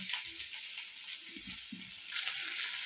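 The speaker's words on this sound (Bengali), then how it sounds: "মাশরুমের আলু, এই যে আলুটা ভাজবো।" Potatoes frying in a pan for a mushroom curry give a steady, fairly faint hiss with a few soft low knocks from a utensil, with no voices.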